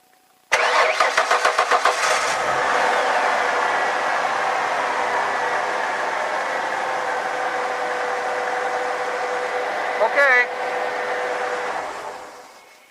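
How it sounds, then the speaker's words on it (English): A car engine cranks with a rapid chugging burst, catches, and settles into a steady idle, with a brief rev near the end before it winds down, during an oil pressure test. "go ahead and start the engine"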